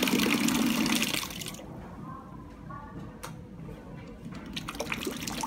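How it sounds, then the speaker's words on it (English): A peristaltic pump filling machine pushes liquid through, giving a steady wet hiss and gurgle that eases into a softer running flow and then swells again near the end. The sound is close and moderately loud, with no speech. "So if you want to adjust the filling speed for the pump"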